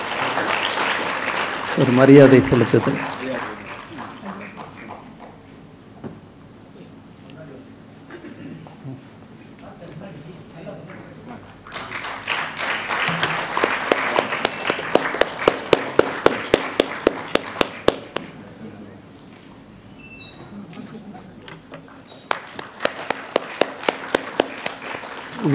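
Audience applause honouring twenty teachers at a book launch on line-art illustrations of Madurai's Pudumandapam, arriving in two bursts of dense clapping between stretches of speech, with talking heard over and between the claps.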